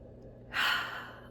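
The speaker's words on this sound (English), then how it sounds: "Deep breath in." A single deep breath in, one soft airy inhale close to the microphone rising out of near silence and fading after about half a second.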